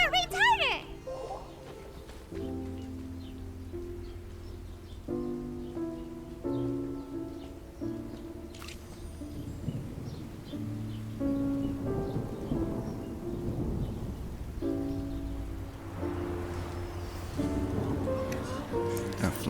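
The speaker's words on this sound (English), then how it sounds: "It's raining!" Rain and rumbling thunder in Genshin Impact, a soft wash of rainfall and low rolls under gentle game music, with characters' voices talking over it.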